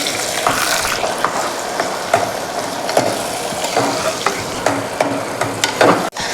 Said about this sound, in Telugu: దీన్ని కూడా కొంచెం బాగా వేపిద్దాము